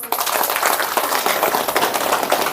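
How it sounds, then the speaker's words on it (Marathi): Applause for the Dindori police station inspector at a gathering of village women who shut down liquor dens in Vani Khurd, Nashik: dense, steady crowd clapping, close and loud, continuing without a break. "रघुनाथ शेगर साहेबांसाठी टाळ्या वाजवा"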